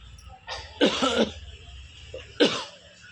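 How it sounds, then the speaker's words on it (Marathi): A person coughs several times up close, a cluster of harsh coughs followed by another after a short pause. "तुला बी खोकला आलाय का बाबा"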